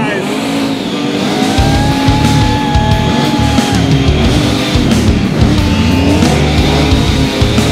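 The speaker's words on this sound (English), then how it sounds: "Rev your engine, guys." Several cars at a car show rev their engines together, a loud continuous roar of rising and falling engine notes with some tire squeal, crowd noise and voices mixed in.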